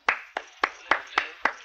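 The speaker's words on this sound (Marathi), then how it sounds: "टाळ्या वाजवायला काय झालं?" Six sharp hand claps come at a steady, even pace, each a crisp close smack that fades quickly, with no talking over them.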